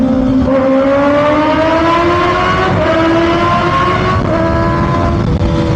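An inline-four motorcycle engine revs loudly and close, its high whine climbing steadily in pitch and dipping briefly between gear rises, sustained for several seconds.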